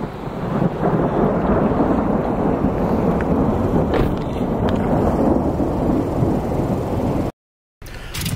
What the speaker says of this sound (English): As soon as I went to film this, it just absolutely started pouring, lightning strike, and then pouring.